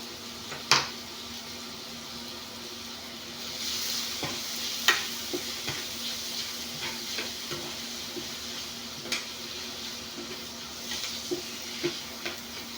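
Vegetables with tomatoes and anchovies fry quietly in a pan, a soft continuous sizzle broken by occasional faint ticks and clinks of stirring, with no talk.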